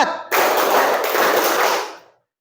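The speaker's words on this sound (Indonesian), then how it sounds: "Prok, prok, prok, prok. Nah, itu tepuk 4." A dense burst of four claps from many hands in a classroom clapping game, loud and close, lasting about two seconds before stopping abruptly.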